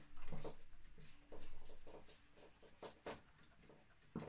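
Marker or chalk scratches across a classroom board during an Arabic lesson, coming in short uneven strokes with pauses between them, moderately loud and close, with no talking over it.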